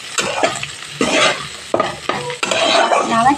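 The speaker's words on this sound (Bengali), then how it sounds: "2 মিনিট পরে ফিরে এসে আবার একটু নাড়াচাড়া করে দেবো।" Potatoes and radish greens frying in a pan while being stirred, with a steady close sizzle punctuated by repeated scraping strokes of a spatula against the pan.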